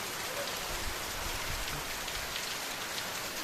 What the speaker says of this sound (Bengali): বাইরের দিকে কীরকম বৃষ্টি পড়ছে দেখো